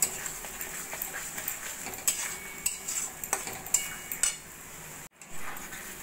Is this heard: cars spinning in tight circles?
no